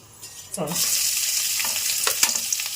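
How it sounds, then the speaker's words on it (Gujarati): Garlic and ginger dropped into two big spoons of hot oil for momo stuffing, a sudden loud sizzle that bursts in and stays as a bright, close crackling hiss. "તેલ ગરમ મૂકી દીધું છે, 2 મોટી ચમચી તેલ લીધું છે અને સૌથી પહેલાં નાખશું આમાં લસણ અને આદુ"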